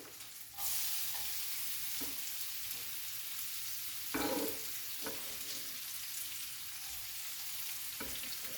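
Onion sautés in hot fat as the base of a celery and chorizo risotto, a continuous close sizzle that jumps louder as the onion goes in, then carries on with occasional stirring scrapes and no talk.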